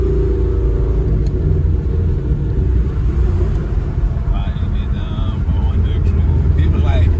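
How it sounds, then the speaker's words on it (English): Deep, steady exhaust rumble from a 500+ horsepower 2015 Ford Mustang GT, heard from inside the car and droning loud and continuous for the whole stretch, with faint muffled voices in the background. "when people be hearing my exhaust"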